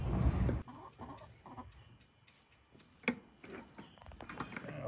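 Australorp and Production Red chickens cluck in a coop with new perches, a loud flurry at the start giving way to scattered soft clucks and sharper calls nearby.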